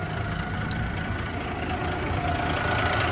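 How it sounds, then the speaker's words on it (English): A classic truck with a B model mechanical diesel idles low, a steady, rumbling drone close by that holds evenly throughout with no talking. "Sounds like it needs to be idled up a bit."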